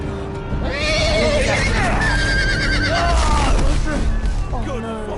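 A horse in the Game of Thrones Telltale video game neighs loudly and close, a long shrill whinny rising and falling over several seconds amid dense game sound and voices.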